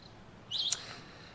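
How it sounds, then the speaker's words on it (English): Outdoors, one brief bird chirp rings out, fairly faint against a quiet background. "Hello, birds."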